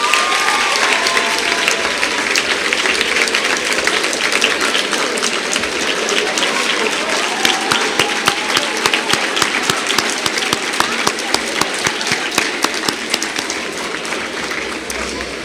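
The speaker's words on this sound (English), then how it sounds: "please give a round of applause to those anonymous, mysterious people out there." A large crowd at an awards ceremony applauds steadily and loudly, with cheers and voices mixed into the sustained clapping.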